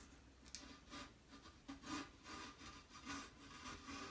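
An encaustic photograph panel having its edge trimmed, a faint, steady rasping and scraping repeated in short strokes with no talk.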